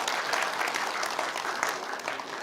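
Brief scattered clapping from a church congregation during a sermon, a short burst of applause heard alone.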